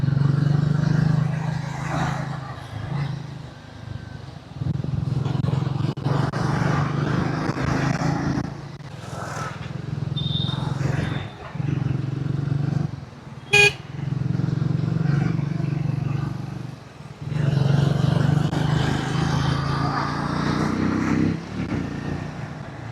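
A Triumph Speed T4 motorcycle hums steadily on a ride with a low engine drone and wind rush, swelling and dipping as it maneuvers, with a rider talking over it at times.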